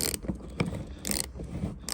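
A Ford Focus EcoBoost oil filter being cut open with a hand tool: repeated rhythmic ratcheting, scraping bursts of metal-on-metal clicking, close and moderately loud.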